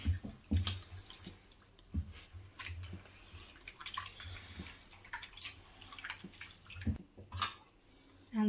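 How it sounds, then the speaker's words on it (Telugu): Water poured and sloshed into rava dosa batter being mixed in a bowl, irregular splashing and stirring close by, with a few clinks and no talking. "బాగా కలిపినాక నీళ్ళు చాలా పోయాలి."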